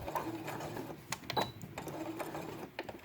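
A sewing machine stitches felt for a quiet book in a quiet room, running a close, quick mechanical chatter in short runs with brief pauses between them.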